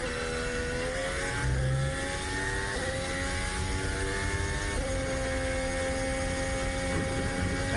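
A Formula 1 car at the 2021 Spanish Grand Prix qualifying screams past at high revs, its steady whining engine note dropping in steps through several gear changes, loud and continuous.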